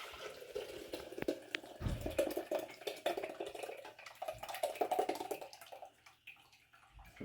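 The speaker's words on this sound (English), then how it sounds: "I'm just going to pour this into the coffee pot" Coffee pouring in a continuous trickling stream into a French press, fairly quiet, with small clinks and splashes as the flow tapers off.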